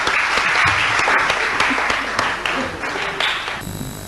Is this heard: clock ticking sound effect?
no